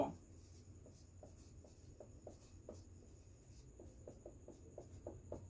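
A pen scratches across paper in short, faint strokes at close range, an irregular series of soft scrapes over a quiet background.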